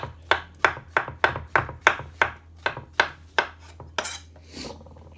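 A knife chops mushrooms into large pieces on a board, about a dozen quick, close thuds in a brisk steady rhythm, slowing toward the end with a low hum underneath.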